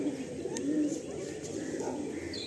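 Low, throaty cooing from pigeons in a breeders' loft, rolling on steadily at moderate volume with a faint chirp or two above it and no speech.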